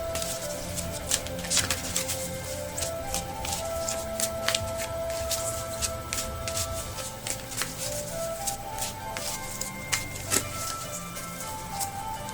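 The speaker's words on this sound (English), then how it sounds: "let's shuffle the cards and see what we get" Tarot cards are shuffled close up, giving a continuous papery riffling with sharp snaps and flicks scattered throughout, over a faint tonal hum in the background.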